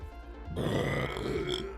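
A long, strong human burp rumbles out after a quieter half second, lasting over a second with a low throaty texture, close to the microphone.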